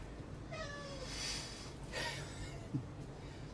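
A cat gives two faint, drawn-out meows spaced about a second apart, quiet and somewhat distant over low background hiss.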